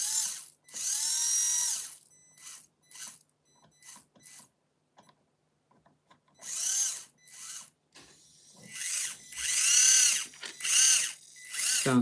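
Whining drivetrain of an RC car with tightly meshed gears, running in loud bursts of high-pitched motor and gear whine separated by short pauses, with one longer gap midway.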